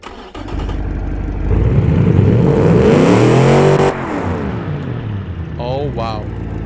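A car engine in a video game, running with no mufflers, starts and then revs loudly and close, climbing to a sustained high-pitched wail before settling back to a rough idle, with a voice briefly heard near the end.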